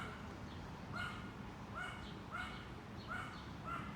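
A dog across the street barks repeatedly in short, evenly spaced yaps, distant and faint over a steady outdoor rumble.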